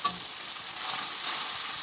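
Spices frying in oil in a pan while cooking a vegetarian okra dish, a steady close hiss and crackle of sizzling with a brief stir-clink at the start, with no voices.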